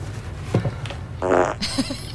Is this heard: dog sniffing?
no